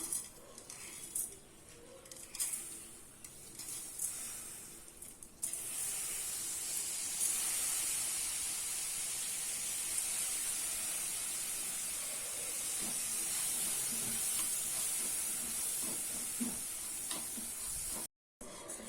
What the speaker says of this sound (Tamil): இப்போ இந்த அரிசியை போட்டு வறுத்துக்கலாம்.